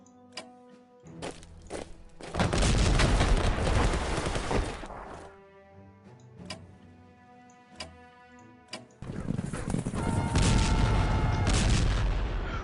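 Explosions in the World War 1 strategy game Strategic Command, as a detachment is blown up. Two long, loud rumbling blasts are separated by sharp ticking interface clicks and tonal game sounds, and no one speaks.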